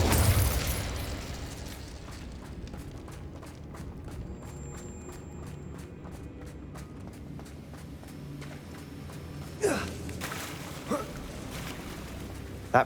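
An Incendio fire spell goes off in Hogwarts Legacy with a loud burst at the very start that fades into a low rumble, followed by a few brief sharp pops later on.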